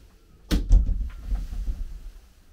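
A shower cubicle door on a Jeanneau Cap Camarat 10.5 WA boat bumps shut with a short thud and rattle, followed by a brief low rumble fading out.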